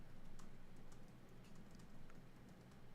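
Keys clatter in quick, irregular bursts on a computer keyboard, a steady patter of taps held at moderate level over a low background hum, with no voices.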